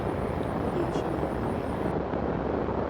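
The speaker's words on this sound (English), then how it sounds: "So is Roger gonna let her land the airplane, you think?" A Zenith STOL CH 750 small propeller airplane drones steadily overhead, a continuous low engine hum mixed with wind noise.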